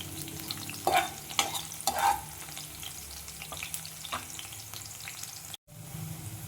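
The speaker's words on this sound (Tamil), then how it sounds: "ஒரு 10 குண்டு மிளகா இதை சேர்த்திக்கலாம். லைட்டாக வதக்கிக்கலாம்." Round chillies lightly sautéed in a pan for chicken rice, giving a steady close sizzle with a few louder stirring scrapes and clatters, and a brief dropout near the end.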